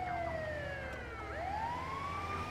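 An ambulance siren in Grand Theft Auto V wails continuously, its tone sliding down and back up in slow sweeps over a low engine rumble, moderately loud and steady, with no voices.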